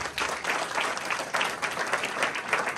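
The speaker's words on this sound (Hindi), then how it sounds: "जोरदार तालियां चाहिए।" A church congregation at a sermon service applauds in steady, dense clapping that holds for the whole moment without pause.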